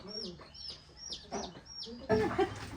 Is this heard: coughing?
no